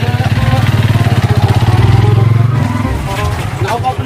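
A motorcycle engine pulses loudly and close with a rapid, even thump as it rolls in to park, then cuts back near the end while voices chatter over it.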